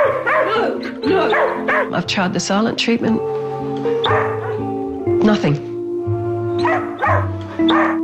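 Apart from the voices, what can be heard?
Australian working dog barking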